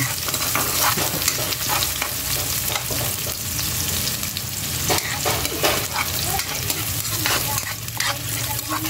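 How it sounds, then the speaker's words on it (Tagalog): Garlic and onion sauté in a pan for a stovetop baked mac, a continuous close sizzle broken by frequent scraping and clinking as a utensil stirs, steady throughout with no speech. "So pag medyo brown na siya, sunod natin yung sibuyas. Halu-haluin lang po natin."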